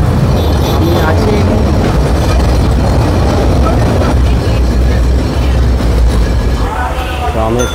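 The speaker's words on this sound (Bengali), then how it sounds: "কলকাতার ঐতিহ্যবাহী ট্রাম। ট্রাম চলেছে" A Kolkata tram running, loud rumbling and rattling carriage noise heard from inside, continuous throughout with some background voices.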